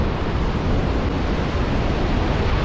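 Roaring sea waves make a dense, continuous wash of loud noise close to the microphone, steady with no pauses and no voices.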